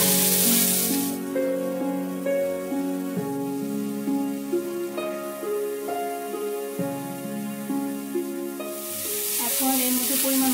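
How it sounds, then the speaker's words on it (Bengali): Vegetables fry in hot oil in a wok with a loud hissing sizzle at the start and again at the end, while tuneful music fills the stretch between. "প্রথমে আমি সবজিটাকে ভেজে নেব।"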